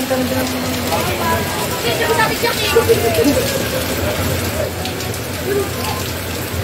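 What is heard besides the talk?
heavy rain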